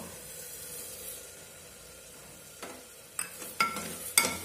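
Washed rice is stirred and fried with softened tomatoes and green chillies inside an open pressure cooker: a low continuous sizzle, then a few sharp scraping clatters of the spoon toward the end.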